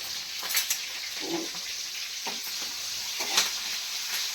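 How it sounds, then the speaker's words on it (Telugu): Green chilies frying in hot oil for a puri-and-besan curry, a steady sizzle broken by a few louder crackles and spits, close and unaccompanied by voices. "ఇది మంచిగా వేగాలన్నమాట ఈ పచ్చిమిర్చి."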